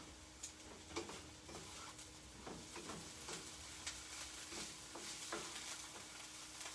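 Stuffed squash filling mixture sizzles in a pan while a utensil stirs it, with scraping clicks and clatter at an uneven pace over a steady close fry hiss.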